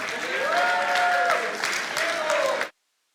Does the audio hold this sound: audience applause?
yes